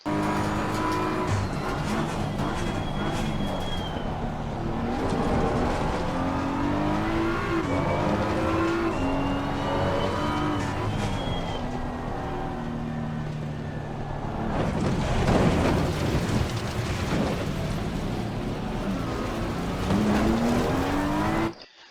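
Multi-car pileup at the Barcelona circuit in the racing game Assetto Corsa Competizione: loud continuous race-car engines roar and rev, with tire squeals and skidding, and a heavier burst of impact noise and scraping midway through.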